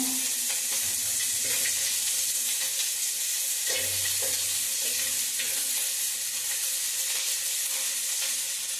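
Small onions frying in coconut oil for chutney powder: constant crackling sizzle close by, with occasional stirring scrapes and soft knocks throughout, no talking.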